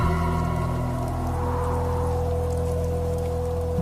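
Heavy rain pours steadily on a stormy night in a forest, a dense continuous wash of drops with a low rumble beneath, loud and unbroken throughout.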